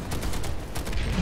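Rapid gunfire in an online military shooter game, a dense continuous fusillade of overlapping shots with no pauses, loud and close throughout.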